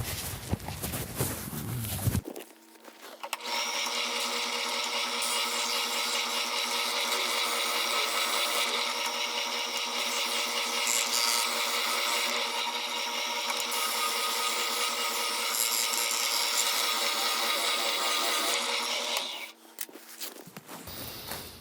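A power sander works tiny wood pieces held in a jig, a loud sustained whirring grind that starts after brief handling noise and runs evenly for about seventeen seconds before cutting off.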